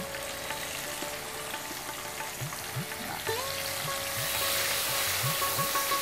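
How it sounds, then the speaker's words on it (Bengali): Bitter gourd rubbed with salt sizzles steadily in a pan of hot oil, a close continuous crackle broken by a few soft stirring scrapes, growing a little louder and brighter partway through. "উচ্ছেটা কিন্তু একদম লাল করে ভাজা হবে"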